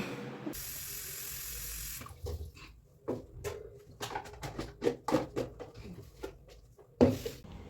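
Borewell water pours from a tap into a container being filled for cooking: a steady rushing hiss at first, then a run of knocks and clatters as the water and container shift.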